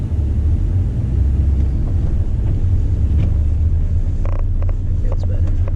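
A Jeep Wrangler drives through snow in four-wheel drive during a Virginia–North Carolina snowstorm, its engine and drivetrain making a loud, steady low rumble heard from inside the cabin, with a few faint clicks and crunches near the end.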